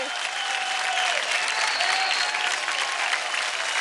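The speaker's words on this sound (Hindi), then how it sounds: "तालियां प्रदीप और वरुण के लिए." A studio audience at a televised dance competition show applauds for two contestants, a dense, even burst of clapping that lasts the whole moment without a break.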